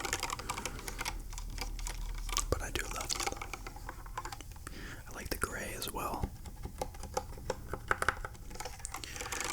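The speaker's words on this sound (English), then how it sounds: "this keyboard makes interesting noises as well" Rapid clicky keyboard typing, close and continuous, with a soft whispered voice talking over the keystrokes.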